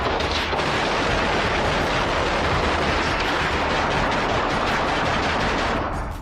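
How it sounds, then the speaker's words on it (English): Gunfire from a suspect's gun during a police standoff. A dense, loud, continuous barrage of crackling reports runs without a break and eases off only slightly at the end. "he's popping off rounds every once in a while"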